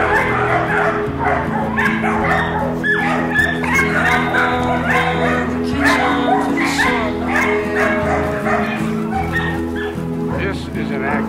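Several puppies bark, yip and whimper nearly nonstop, close and loud, their high-pitched cries overlapping over a low background hum.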